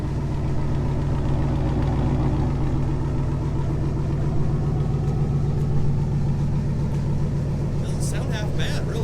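A rusted, long-neglected 1960 Oldsmobile engine running, a steady low rumbling idle throughout, with a brief higher metallic clatter near the end.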